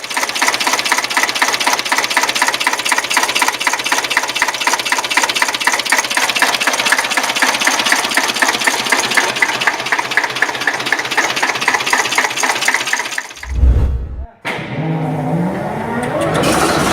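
A heavy industrial two-stroke diesel engine cold starts and runs with a loud, rapid, evenly pulsing clatter at close range, then stops abruptly with a deep thump before a short tail of mechanical noise.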